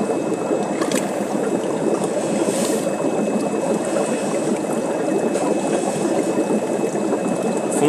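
A Sunsun HBL aquarium canister filter runs continuously, giving a steady, close bubbling and gurgling rush of pumped water with no talking.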